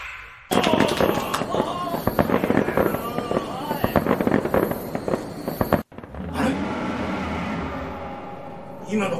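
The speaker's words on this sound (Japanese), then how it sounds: "花火の音ですよ。" Rapid bursts of fireworks crackle and pop densely for several seconds, then a deep boom follows and its rumble slowly fades; voices are faintly audible.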